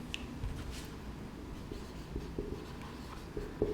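Chalk or marker scratching steadily across a board during a steel structures lecture on riveted connections, quiet continuous strokes with small taps, no voice present.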